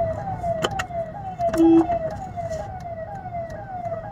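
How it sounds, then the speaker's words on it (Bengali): An ambulance siren wails through a repeating rising-and-falling cycle as it passes on a street nearby, at moderate volume over light traffic noise, with a brief beep partway through. "অ্যাম্বুলেন্স আসছে, ছেড়ে দিই।"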